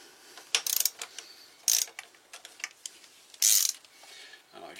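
A torque wrench ratchets in short bursts of clicking as it tightens the front wheel of a BMW R1200RT LC motorcycle, close and fairly loud, with several quick rounds of clicks.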